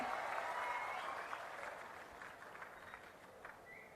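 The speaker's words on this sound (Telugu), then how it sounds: "గట్టిగా చప్పట్లు కొట్టి వాళ్ళని కూడా మీరు అభినందించాలి." Audience applauding at a government gathering in Andhra Pradesh, a steady broad wash of clapping that stays loud, then gradually thins and fades over four seconds.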